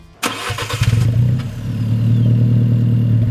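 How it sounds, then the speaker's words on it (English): An Alfa Romeo 4C Spider engine cranks with a few rapid chugs, then catches and settles into a loud, steady idle close by. "Even more intense is the feeling you get when you start the engine."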